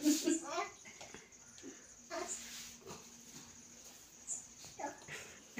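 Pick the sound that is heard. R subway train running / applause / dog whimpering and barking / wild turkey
dog whimpering and barking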